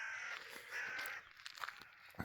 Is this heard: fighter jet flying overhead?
no